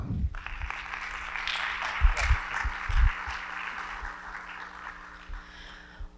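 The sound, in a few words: audience applause welcoming speaker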